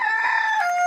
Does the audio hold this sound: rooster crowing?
yes